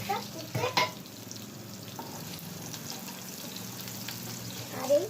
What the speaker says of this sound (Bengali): আর এই আলুর দমের ইয়েটা পেঁয়াজটা আমি ভাজছি।